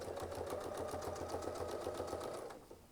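A sewing machine runs at an even, fast pace while stitching a quatrefoil motif, its needle chattering rhythmically up close before slowing at the end.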